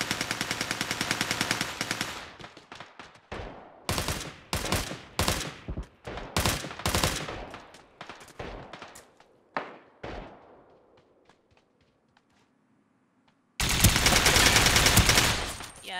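Video game gunfire: long sustained automatic bursts and rapid single shots, loud and close, fading to near silence before another heavy burst, with no talking.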